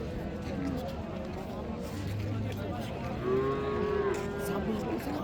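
A Friesian dairy cow at the Raniganj cattle market in Dinajpur gives a low moo, then a longer drawn-out bellow, close by under men's conversation and market bustle.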